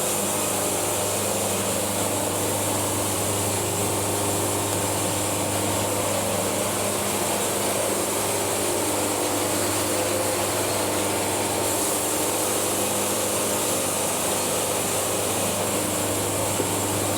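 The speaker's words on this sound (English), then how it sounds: "Sawing nice and flat." A saw cuts steadily through a poplar log with a continuous loud mechanical roar and whine, unchanging throughout and without any talking.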